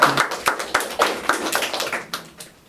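A small audience claps in a Korean debate show on whether AI's judgments about humans can be trusted, delivering distinct, fairly close hand claps in an uneven rhythm that slowly thins out.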